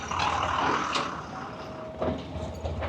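A lorry passing on a street in Kakinada during a summer motorbike ride, heard as a loud broadband rumble with a faint high tone and brief brake hiss, under steady road noise.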